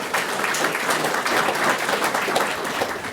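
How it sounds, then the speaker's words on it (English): An audience at a high school career signing ceremony applauds a student, giving steady continuous clapping at moderate volume with no break. "Let's have a round of applause for Cameron Smith."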